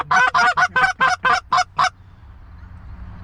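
Several geese honk in quick succession during a Pennsylvania goose hunt, eight loud, close calls over about two seconds, then only faint outdoor background remains.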